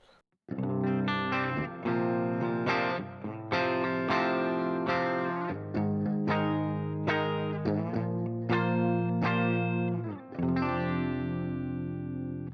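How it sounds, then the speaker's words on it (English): A clean electric guitar through a Bogren Digital Trivium Ampknob amp plugin plays ringing chords and short melodic phrases with a light wash of reverb, steady and close, with no talking. "So that's a nice kind of clean tone."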